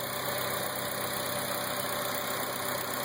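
A 2002 Acura RSX Type-S with an RBC intake manifold and Injen cold air intake idles steadily, a smooth continuous engine hum close by with no voices over it.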